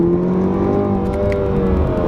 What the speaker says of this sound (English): I'm gonna go ahead and downshift here again